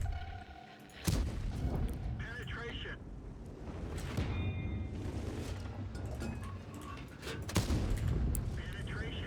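Two heavy tank cannon shots from an M48 Patton battle in World of Tanks boom out sharply several seconds apart over continuous engine rumble and battlefield noise.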